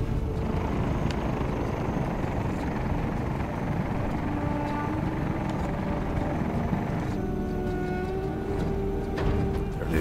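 A video-game aircraft performs a touch-and-go landing, its engine drone continuous and fairly loud throughout, with a rising tonal whine near the end and no voices.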